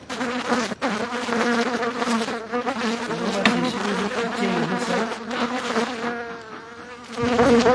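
A highly selected honeybee colony being moved into a new hive fills the air with a dense, steady buzz of many wings, loud and close, holding on without a break throughout.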